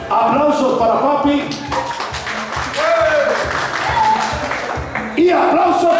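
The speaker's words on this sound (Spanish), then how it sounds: "Aplausos para papi." An audience at a karaoke entertainment show breaks into applause, scattered claps tapping along under a loud voice and music that carry on throughout.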